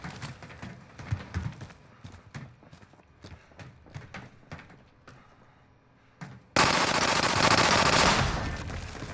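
Rapid bursts of machine gun fire from a Call of Duty: Modern Warfare firefight, sharp clustered shots repeating across the first half, then a sudden loud sustained blast of noise takes over near the end.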